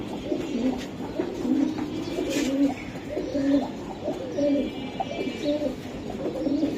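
Several Giribaz racing pigeons cooing close by, repeated low rolling coos in a steady rhythm, with light rustling behind them.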